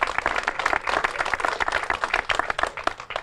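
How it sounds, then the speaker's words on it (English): Steady applause from a crowd at a golf course dedication ceremony, dense clapping filling the moment with no voices standing out. "Let's get a round of applause for that."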